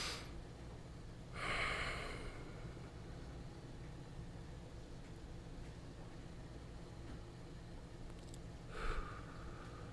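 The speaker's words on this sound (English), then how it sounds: "just take 5 calming breaths" Two slow, audible breaths at a calm meditation session, one near the start and one near the end, each a soft airy rush over a steady low background hum.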